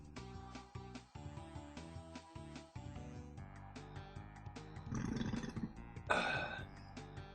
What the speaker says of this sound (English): That was quite a burp.